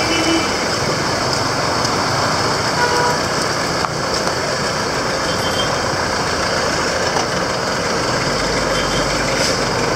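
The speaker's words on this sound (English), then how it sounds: "All the vehicles are using these other lanes." Busy traffic on a main highway in Gambia under road maintenance, trucks and cars rumbling past in a loud, continuous stream of engine noise, with no talk.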